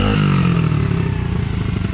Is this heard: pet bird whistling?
no